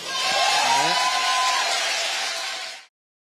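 Studio audience in a Korean TV news talk show breaking into applause and cheering, a dense, loud wash of crowd noise with a few whoops and voices over it, lasting a few seconds before cutting off abruptly.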